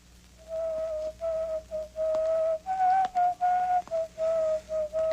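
A person whistles a tune in short, clean repeated notes, rising and falling in a steady rhythm, near and fairly loud against a quiet background.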